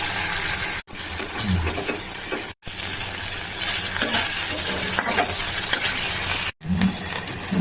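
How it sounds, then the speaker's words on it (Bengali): Jackfruit kabab frying in hot oil, a steady close sizzle with occasional stirring clinks and brief gaps where the sound cuts out. "হ্যাঁ, কাবাব ভাজা হয়ে গেছে"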